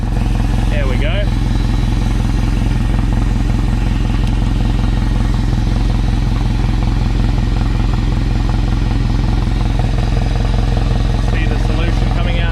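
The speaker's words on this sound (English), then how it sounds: "I'm going to do here is use the engine flusher" A boat outboard engine runs steadily on an engine flusher with water flowing through it, a loud, constant close-up rumble that holds for the whole stretch with no pauses.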